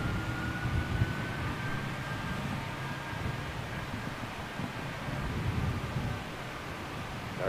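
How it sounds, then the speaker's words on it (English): An Emirates Airbus A380 on approach to London Gatwick rumbles as a low, steady drone through wind noise, distant and faint and slowly building. "Emirates 380 inbound, imminent."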